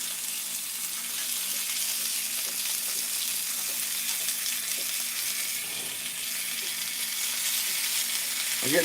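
Bacon frying in a pan gives a steady, fairly quiet sizzle with soft crackles and pops throughout, with no voices.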